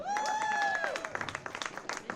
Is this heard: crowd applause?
yes